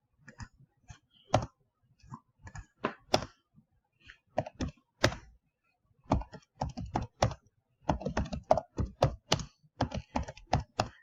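Computer keyboard typing in quick irregular bursts of close, crisp key clicks with short pauses between runs, heard alone without any talking.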